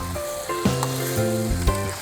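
Pork belly frying and browning in hot oil, a steady close sizzle running throughout, with tonal background music layered over it and occasional soft clinks.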